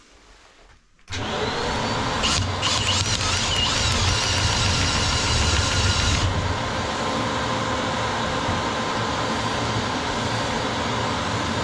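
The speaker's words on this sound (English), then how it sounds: "So I'm going to put the vacuum on" A vacuum cleaner starts up abruptly about a second in and then runs steadily and loudly during a chimney sweep of an open fireplace, a constant whooshing drone with no talk.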